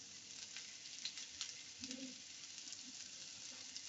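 Chilies fry in a pan with onion for aloo bhatta, giving a quiet, steady sizzle with a few small crackling pops.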